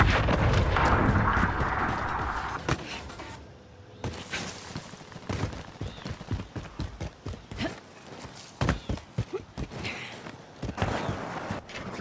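Gunfire in Warzone, a run of sharp, loud shots and crackling bursts with booming impacts, dense at first and then spaced into separate cracks.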